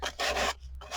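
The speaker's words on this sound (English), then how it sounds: "It's a fine grit sanding block." Fine grit sanding block rubbed across a mixed media board, giving two steady raspy strokes close up with a short pause between them, and no voices.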